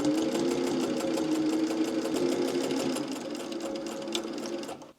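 Sewing machine stitching a fabric seam on children's pants, running steadily and close up with a fast even rattle, then slowing and stopping at the end.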